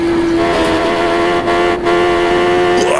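A racing motorcycle in an Isle of Man sim racing game holds a loud, steady engine drone, briefly dips twice, then its pitch jumps upward as it drops down a gear.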